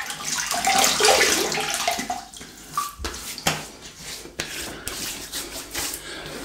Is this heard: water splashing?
yes